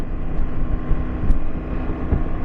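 KTM 790 Adventure motorcycle exhaust at low revs: a steady, deep, throbbing rumble, loud and continuous throughout.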